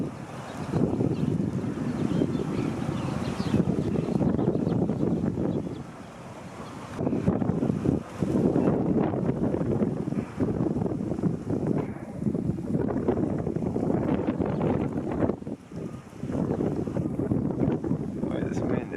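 Strong gusty wind buffets the microphone at a stadium construction site, a loud roaring rumble that rises and falls in waves with a brief lull near the middle.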